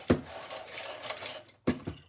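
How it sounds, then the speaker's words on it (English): A Prismacolor coloured pencil is twisted in a handheld sharpener, giving a quiet scraping grind with two brief sharper rasps at the start and end, close and alone. "Why do you all need to be sharpened? And the sharpener's not caving today."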